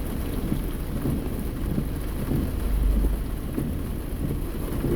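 Steady rain drumming on a car while driving, with low thunder rumbling through it, loudest around the middle; continuous and fairly loud with no talking.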